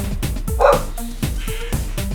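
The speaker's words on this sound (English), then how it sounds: "I had to close the window for the dog" A neighbor's dog barks repeatedly in short, rapid bursts, fairly loud and slightly muffled as if coming through a window.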